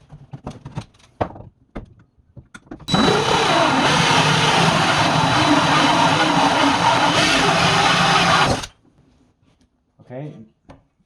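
A power saw makes a loud, steady rough cut through the wood of a vintage dresser being fitted as a bathroom vanity. It roars for about six seconds, with brief speech and shop noises before and after.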